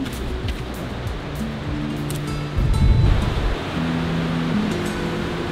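Horsepasture River in the rugged Pisgah Forest, North Carolina, rushing steadily and close, a dense unbroken wash of water noise with a brief louder surge midway.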